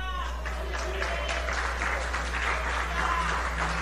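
A church congregation claps during an evening worship service, giving steady, moderately loud applause over a constant low hum, with voices faintly mixed in.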